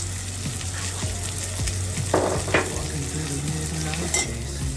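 Dried fish curry masala and vegetables sizzle steadily in a pan, with a few scrapes and stirring knocks from a spoon, close and fairly loud, no talking.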